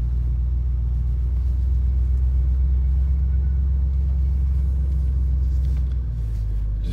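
A 1968 Chevrolet Caprice with a three-speed transmission cruises along, its engine giving a steady, loud low rumble with road noise throughout and no talking.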